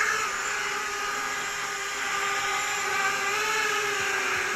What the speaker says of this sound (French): Le voilà en vol, notre petit comète.